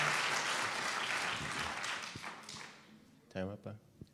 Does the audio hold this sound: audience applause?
yes